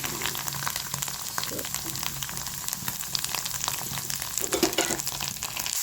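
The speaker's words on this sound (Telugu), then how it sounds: "ఇది ఇక్కడ చాలా జాగ్రత్త ఉండాలి, చిల్లుతుంది నూనె" Paneer cubes frying in hot oil in a home kitchen, a steady dense sizzle with sharp crackling pops of spattering oil throughout, close and fairly loud, no talking.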